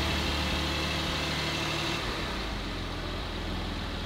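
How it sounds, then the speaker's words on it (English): A rebuilt, previously totaled Porsche 718 Cayman GT4 idles after a cold start, its engine giving a steady, fairly quiet hum with faint rattly texture and no variation in pitch. "This actually sounds like a Porsche now."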